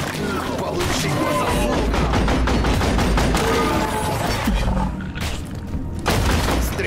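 Continuous gunfire and booming thuds in the co-op game Deep Rock Galactic as players shoot at swarming bugs. The firing is dense and steady, loud and close throughout.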